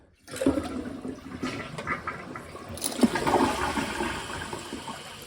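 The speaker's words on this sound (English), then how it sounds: "Well, the ceremonial first flush." A newly installed toilet gives its first flush, a loud rushing surge of water that swirls, gurgles and drains for several seconds, then settles into a steady refill, with no talking.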